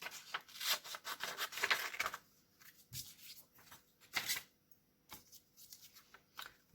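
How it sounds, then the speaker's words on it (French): A shape being cut out of stamped, heat-embossed material, close rough rasping and snipping strokes in bursts, busy at first, then sparser with pauses. "Donc, je vais venir découper."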